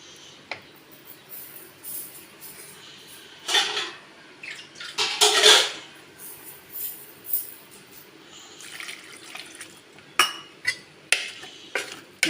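Water is poured into a pot of dal-free pumpkin sambar and stirred, giving splashing pours and scraping, clinking spoon strokes against the metal pot in uneven bursts at close range.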